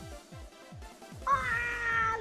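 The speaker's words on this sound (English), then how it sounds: "I want a cat, man." A cat lets out a drawn-out, wavering meow that rises clearly over a rhythmic series of low, repeating thumps in the background.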